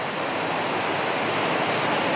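Bomod-Ok Falls in Sagada roars as a steady, dense rush of falling water, a loud, even broadband hiss with no breaks and no voices.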